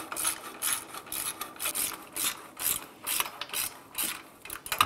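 Ratchet wrench snugging a nut and bolt on the rear catalytic converter of a 2003-2009 Subaru Outback, a steady run of quick, close ratcheting clicks in repeated short bursts with no talking.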